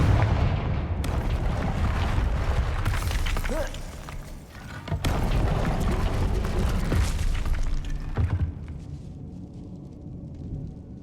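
Loud, sustained blast of a Confringo fire spell in Hogwarts Legacy, a dense roar with a sharp burst near the middle, fading toward the end with no talk.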